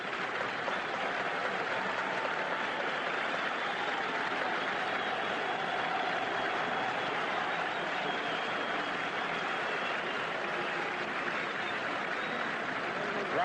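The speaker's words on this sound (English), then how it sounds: "a standing ovation before the first ball is pitched out" A baseball crowd at a 1981 playoff game between the Expos and Phillies gives a standing ovation before the first pitch, with steady, dense applause and cheering sustained at even loudness throughout.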